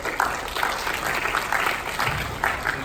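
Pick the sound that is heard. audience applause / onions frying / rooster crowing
audience applause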